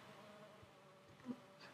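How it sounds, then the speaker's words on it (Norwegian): A faint, steady insect buzz from a fly in a video game plays on its own for under two seconds, with a slight swell near the end. "det er en flue."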